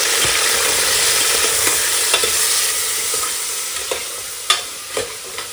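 Onions sizzle and fry in oil in a pan for Mandya-style biryani, a steady broad hiss running throughout with occasional soft scrapes of a spoon stirring them, close and fairly loud with no voices.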